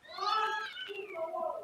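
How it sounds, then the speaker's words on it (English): Cats meowing outdoors, a single drawn-out, wavering meow that rises and falls across the whole moment, fairly close and clear with no talk over it. "you might hear cats outside"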